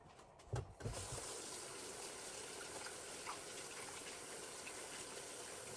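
Tap water gushes steadily into a sink while baking dishes covered in flour are washed up. The flow is continuous and fairly close, with a few clunks of dishes at the start.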